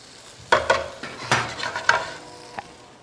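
Shredded cabbage is tossed and stirred in a pan of melted butter and oil, giving a few quick scraping stirs and soft bursts of sizzle at close range, with no talking.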